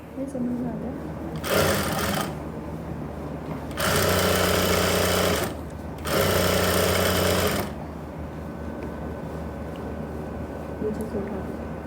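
A sewing machine stitching pants with a front belt and elastic back runs in three loud bursts of rapid mechanical whirring, each one to two seconds long, separated by quieter pauses.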